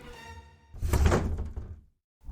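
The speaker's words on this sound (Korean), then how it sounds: "위석이 여포를 사로잡았다 고 소리치며 성문을 열자" A castle gate swinging open as a sound effect: a heavy wooden thunk with a long rumbling grind that fades to silence, then a fresh impact starts at the end.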